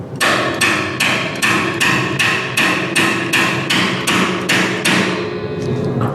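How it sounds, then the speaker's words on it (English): Loud, evenly spaced hammer blows striking a screwdriver in a garage, about eleven sharp metallic hits in a steady rhythm. "So you are actually allowed to hammer on this screwdriver"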